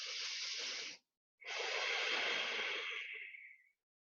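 Deep breathing during a gentle flow yoga class: a long airy exhale, a short pause, then a longer breath that fades out, close and breathy with no talking.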